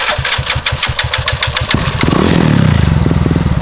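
Small 125cc four-valve motorcycle engine close by, idling with a choppy putter before revving up into a louder, rising drone.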